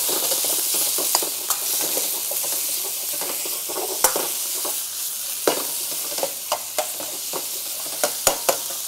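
Tender beef fillet is stir-fried in a hot pan during a cleaver cooking class, with a continuous loud sizzle and hiss broken by scattered sharp clanks of the utensil stirring the meat.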